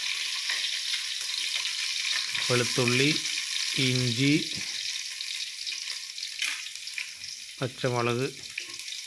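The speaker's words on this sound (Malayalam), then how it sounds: "എണ്ണ ചൂടാകുമ്പോൾ അതിലേക്ക് കുറച്ച് കടുക് ഇട്ട് കൊടുക്കുക" Mustard seeds and spices sizzle and crackle in hot oil in a home kitchen while a pickle is made from pomegranate-like lemons, with a steady frying hiss running under a woman's intermittent speech.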